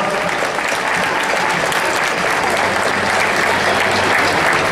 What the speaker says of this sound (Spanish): todos un aplauso a todos los papás